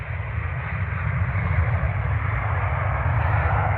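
A Ryanair airliner lands at Manchester Airport with a loud, steady jet roar and rumble that holds continuously from nearby, with no voices.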